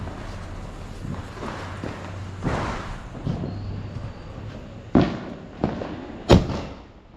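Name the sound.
fireworks exploding in the sky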